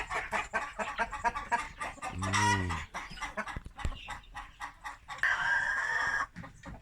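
Chickens clucking close by in quick, choppy bursts, with one mottled hen letting out a drawn-out squawking call partway through.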